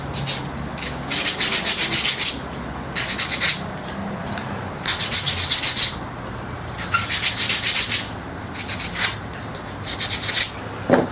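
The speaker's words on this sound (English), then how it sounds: "Just going to sand these edges a bit." The edges of a tapered wooden piece are sanded by hand in loud, close rasping strokes, each lasting a second or two, with brief pauses between them and no talking.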